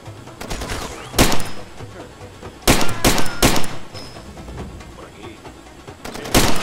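Bursts of gunfire in the video game Far Cry 2 ring out in sharp clusters, several rapid volleys separated by brief pauses, loud and close.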